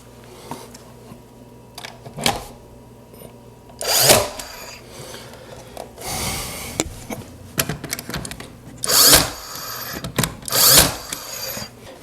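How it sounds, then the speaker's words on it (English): Original oak trim being fastened back with a nailer beside oak flooring during a wainscot installation: several sharp, loud bursts and clacks spaced irregularly, close by, with quieter handling noise between them and no talking. "what I'm doing here is nailing back the original oak trim that goes with the oak flooring"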